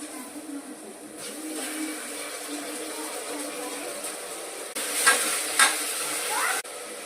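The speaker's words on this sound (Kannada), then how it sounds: "ಹಸಿ ವಾಸನೆ ಹೋಗೋ ತನಕ ಸ್ವಲ್ಪ ಫ್ರೈ ಮಾಡ್ಕೊಳ್ಳಿ" Ginger garlic paste and spices frying in a pan for chicken dum biryani, giving a steady close sizzle with scraping stirs that grow louder and clatter briefly near the end.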